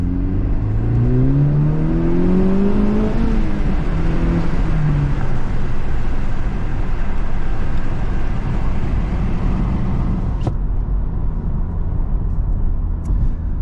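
Cabin sound from a moving Honda Civic Type R FL5: a continuous loud engine and road drone, with rising rev sweeps early on, then a steady cruise broken by a couple of sharp clicks.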